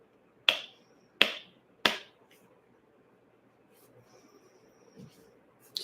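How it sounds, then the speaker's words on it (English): A deck of tarot cards is knocked three times in quick succession, sharp close raps about two-thirds of a second apart, followed by quiet room tone with faint low murmurs. "I'm going to knock my energy into the cards, Rick."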